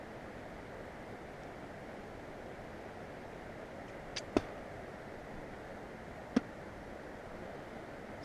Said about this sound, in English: Look at all the waterfalls coming down.